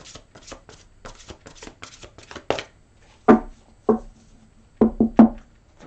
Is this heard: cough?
no